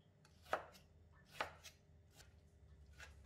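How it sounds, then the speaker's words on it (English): Knife chopping kai lan, egg and mustard greens on a board: two sharp, distinct chops close up, then a few softer cuts, with no talking. "Cut the kai lans, egg and mustard green into smaller pieces."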